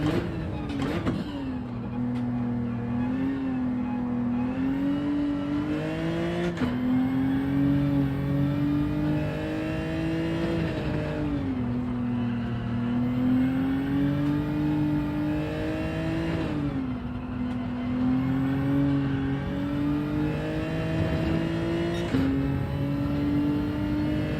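Race car engine in Gran Turismo 7 at the Nurburgring, held in second gear and revved over a long continuous stretch, its loud, steady drone rising and falling in pitch several times.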